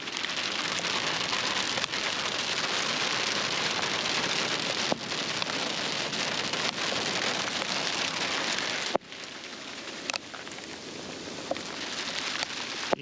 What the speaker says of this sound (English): Pretty good hail size.